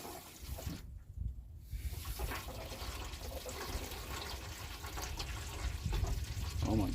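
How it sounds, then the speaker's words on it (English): Water back-flushes through a car heater core that is clogged with rust and gunk, making a steady broadband gushing and rushing that lasts the whole stretch at close range. "As you can see, there's all kinds of rust and gunk coming out of my heater core."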